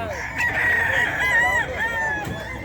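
A rooster crows loudly and close by at a busy pet market where chickens are sold, a single drawn-out call standing out over faint background chatter.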